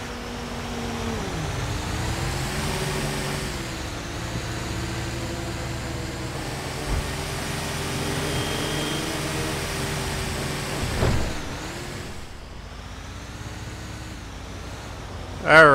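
A Peterbilt 388 heavy-duty tow truck cruises along in GTA 5, its engine droning steadily with shifting pitch as it climbs and eases through gears, with a brief thump near the end and no one speaking.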